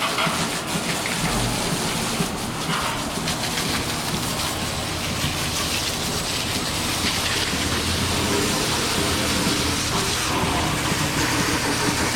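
A hose sprays water to wash down a floor, giving a steady, dense rushing hiss that runs without a break for the whole stretch, with no voices.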